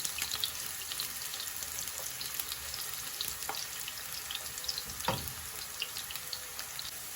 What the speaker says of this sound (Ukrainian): І додаємо сюди моркву. І гарненько так її підсмажимо, щоб була така гарна золотиста морковочка у нас.